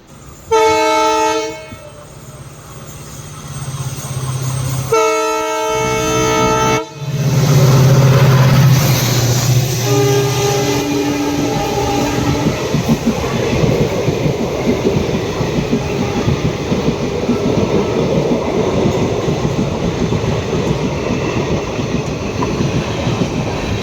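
An express train's horn blasts twice, then the train thunders past a level crossing close by at around 100-120 km/h, its heavy rumble and rattling wheels continuing steadily to the end.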